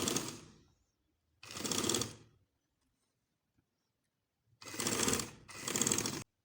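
A sewing machine stitches a baby frock in three close, rapid bursts. The first burst trails off, the second comes after a pause, and after a longer silence a final burst briefly halts and resumes.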